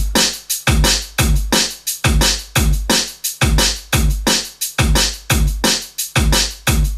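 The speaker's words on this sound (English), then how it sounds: "It's an 8th note or quaver kick followed by a crotchet or quarter note snare." A drum and bass two-step break loops steadily, with an eighth-note kick followed by a quarter-note snare in a tight, punchy, repeating pattern of crisp hits and no other sounds.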